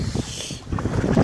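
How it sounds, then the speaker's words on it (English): Steady wind rushes and buffets the microphone outdoors while traps are checked, a broad roar gusting briefly, without speech. "It's awful windy. I don't know if you can hear me."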